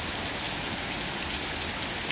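Heavy rain lashes down with strong wind at Karangsong, a dense, loud, unbroken hiss of drops pelting surfaces close by, with no voices.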